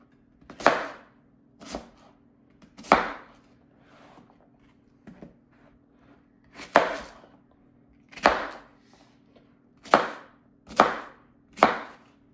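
A Swisstech Stählern knife with an AUS8 steel blade making about nine sharp, crisp cutting strikes at irregular intervals, close and clear against near silence.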